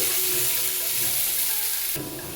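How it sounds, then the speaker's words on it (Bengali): Potatoes frying in a pan with a paste of ground poppy seeds and green and dried red chillies stirred in, a steady close sizzle with soft scraping; the frying thins out near the end. "পোস্তটা এবার আলুর সাথে মিশিয়ে নিচ্ছি"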